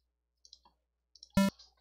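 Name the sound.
Sega PSG sound chip noise channel, G in 2nd octave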